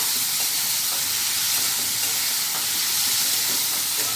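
Mushrooms fry in a pan for a Bengali-style mushroom masala, giving a steady, close sizzle and hiss with faint stirring scrapes throughout, and no one talking.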